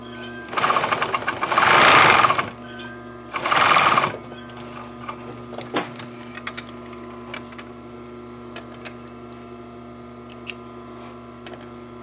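A sewing machine stitches a French seam on a triangle bag in two loud whirring bursts near the start, each about a second or two long. Scattered small clicks and ticks follow in a quiet room.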